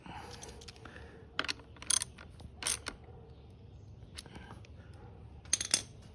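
A small wrench turns a 5mm valve adjustment nut on a Honda Dax125, making faint, sparse metallic clicks and light ticks scattered over a quiet background, close up.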